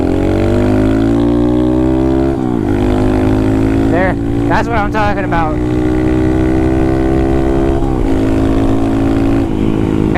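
A Honda Grom/Monkey motorcycle with a big bore engine runs loudly and up close, its deep, throaty idle rising briefly with a few sharp revs, while someone talks over it.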